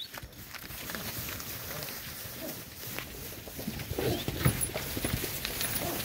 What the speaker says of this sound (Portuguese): 86 boi, esse gado aí.